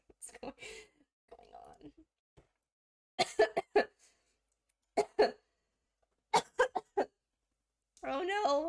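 A person coughs in several short, close bursts spread through the moment, with brief talking before and after.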